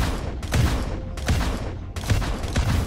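Three loud shotgun blasts from an R97 in a first-person shooter, each a sharp crack with a long decaying tail, spaced about three-quarters of a second apart, close and alone.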